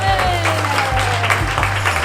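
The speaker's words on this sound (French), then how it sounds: "Et on peut les applaudir bien fort" Audience applause at a prize-giving during a commemoration event for the 80th anniversary of the liberation of Sauzet, a steady dense patter of clapping over a low hum with a voice speaking across it.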